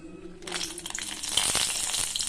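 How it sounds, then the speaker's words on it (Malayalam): Chilies dropped into hot oil in a cheenachatti pan, a sudden loud crackling sizzle that bursts in and keeps spitting and popping steadily, close up. "എണ്ണ ഒഴിച്ചു കൊടുത്ത് ഇതിലേക്ക് നമുക്ക് മുളകിട്ട് കൊടുക്കാം."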